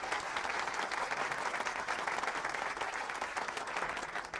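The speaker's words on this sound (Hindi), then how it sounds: "ताली बजाइए जोर से आप लोग।" Loud, steady applause from a classroom audience fills the whole stretch, dense clapping without pause and no voices rising above it.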